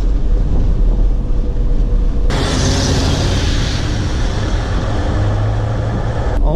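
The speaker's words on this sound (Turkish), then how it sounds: "Motor sesi de muazzam bu arada." A Mercedes 600 Pullman's fuel-injected 6.3 litre V8 gives a steady, deep cabin rumble mixed with wind and road roar, growing fuller and louder after a brief shift partway through.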